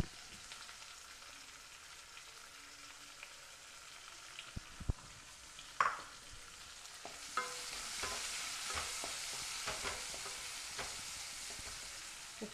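Chopped onion and green chilli frying in a pan, with a soft steady sizzle and scattered scraping clicks of a spoon stirring, quiet and close, with no talking.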